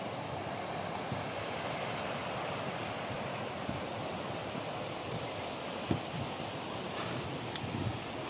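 Basaseachi waterfall in Chihuahua, 246 m high, roaring as a steady broadband rush of falling water, constant and unbroken, with no voices over it.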